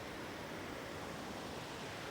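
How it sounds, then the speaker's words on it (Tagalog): Loud, steady rushing water roars without a break, a broad wash of noise like a strong river or flood-control outflow heard nearby, with no voices over it. "Napaka-ingay ng mga tubig oh."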